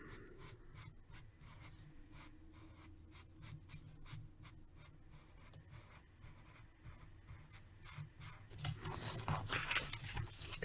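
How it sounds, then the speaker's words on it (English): A marker or pencil scratches across paper in quick, repeated strokes, close and quiet, with a rhythmic scribbling pattern and a louder rubbing burst near the end; no one speaks. "the sounds of the marker or the pencil going across the paper"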